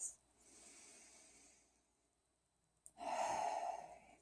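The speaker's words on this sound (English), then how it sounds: "5 nice deep breaths." Slow deep breaths during a yoga chest-opening exercise: a soft, faint airy inhale, a quiet pause, then a louder, breathy exhale close to the microphone.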